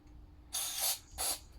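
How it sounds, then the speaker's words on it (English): Two short, close bursts of aerosol cleaner hiss into a Tanaka THT 210B engine carburetor, each lasting under half a second with a brief pause between them. "I'd just give that a proper spray through everywhere, mainly where your needle seats and through your intake pipe"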